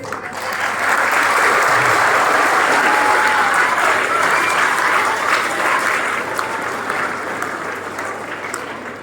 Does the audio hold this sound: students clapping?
yes